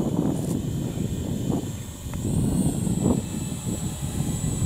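A Ciclope drone hovers steadily outdoors with a helicopter-like whir, a thin high rotor whine over a fluttering low rumble, moderately near and continuous with no talk.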